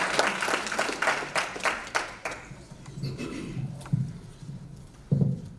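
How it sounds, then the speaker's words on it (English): Audience applause for a speaker at a conference session, a burst of clapping for about two seconds that thins into scattered claps and fades under some low background noise. "So please give it a round of applause to Dr. Finda."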